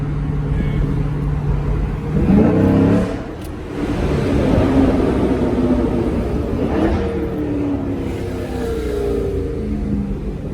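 Dodge Challenger 1320 with a Corsa exhaust in track mode: a loud, steady engine roar and rumble fills the whole stretch, swelling slightly in a couple of surges with no pause.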